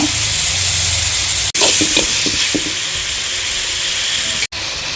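Onions sizzle loudly in a hot pan for a Tamil fish curry, a dense close steady frying hiss with brief crackles and two sharp momentary dropouts, and no speech.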